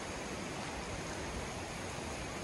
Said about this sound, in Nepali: यही हो गाईघाट झरना